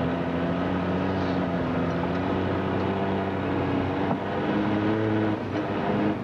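Nissan Patrol off-road vehicle driving through snow, its engine droning steadily and close with a low, even hum that rises slightly in places, with no talk over it.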